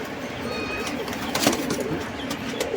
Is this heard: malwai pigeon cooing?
yes